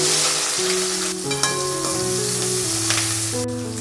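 Chopped onion hits hot oil with popped mustard seeds and cumin, a loud, close sizzle and crackle that continues steadily with stirring.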